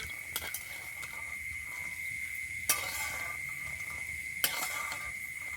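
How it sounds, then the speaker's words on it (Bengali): Peanuts frying in hot oil in a wok, a steady faint sizzle running throughout with a few sharp clinks of a spoon stirring against the pan. "তেল গরম হয়ে গেছে, এবারে কিছুটা এখানে বাদাম নিয়েছি, বাদামটা ভেজে নেব"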